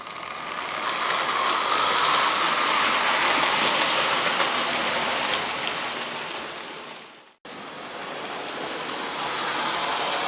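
A Hornby Class 56 model locomotive hauls a long, heavy model train, giving a steady, close whirring and rattling rumble that runs continuously and breaks off for a moment before resuming.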